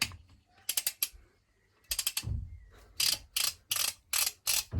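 A ratchet wrench tightens the alloy wheel bolts on a BMW G21 320i in a star pattern to 120 Nm. Bursts of rapid, close, sharp clicking repeat in quick runs, with a few short pauses and a faint thump between them.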